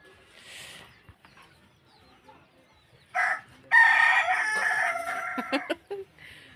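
A rooster crows loudly and close by, a long ringing call, followed by a few short clucks, heard alongside background talk about roasting bananas outside a rural home.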